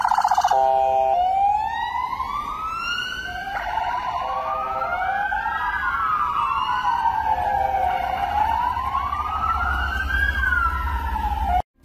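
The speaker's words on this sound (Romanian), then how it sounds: "un cortegiu cu mașini ale Inspectoratului General de Poliție a Frontierei au parcurs prin centrul capitalei spre aeroport" A convoy of border police cars drives through a capital city centre toward the airport, with a loud, continuous wailing siren sweeping up and down close by, steady for about twelve seconds before cutting off abruptly.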